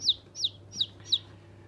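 Australorp chicks cheep in four evenly spaced, high, downward-sliding peeps, close and clear over a faint low hum.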